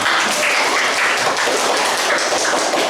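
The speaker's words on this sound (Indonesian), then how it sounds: "beri tepuk tangan Mbak Rita." Students giving a round of applause in a school classroom during a history lesson, steady close clapping from a small group throughout, loud and continuous with no talking.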